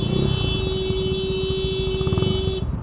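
Engine of a stock Yamaha Mio Sporty motorcycle with a 59 mm bore, revving close and loud in a steady buzzing drone with rapid pulsing, a constant whine running through it, alone with no talk.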